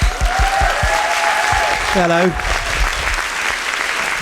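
Audience applause at a Pecha Kucha Night in Dundee fills the room steadily throughout, with a brief spoken greeting and a tonal sound cutting through the middle.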